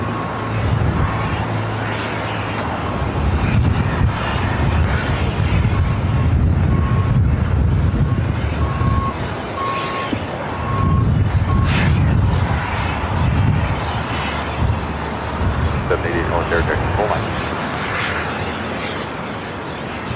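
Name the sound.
Cathay Pacific airliner taxiing at LAX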